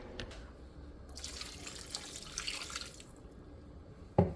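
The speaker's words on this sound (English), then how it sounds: "I'm gonna add another cup of water." A cup of water is poured into a pot of stewed chicken with chicken broth, a soft, splashing pour lasting about two seconds, followed by a quiet pause and a small knock.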